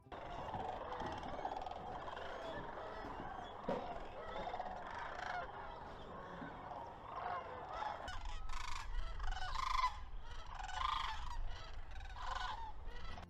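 Dense, continuous chorus of thousands of cranes at Wheeler refuge, their calls and bill clatter massing into a loud, layered din that swells slightly in the second half.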